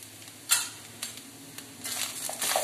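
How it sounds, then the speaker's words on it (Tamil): Okra curry sautéing in a pan with coriander and sambar powder, with soft sizzling and intermittent stirring scrapes and clinks of a spoon against the pan. "நல்லா வதக்கிக்கலாம்."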